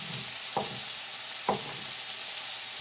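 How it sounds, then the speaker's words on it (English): Peppers, onions and tomatoes sauté in a pan with a faint continuous sizzle, broken by two brief scraping stirs, with no talking. "I'll saute that for maybe another minute."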